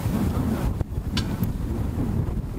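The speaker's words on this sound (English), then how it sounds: "Well, the wind's picking up bad." Strong wind buffets the microphone at a boat ramp, a loud, rumbling roar with gusty swells and a few sharp knocks, with no talking.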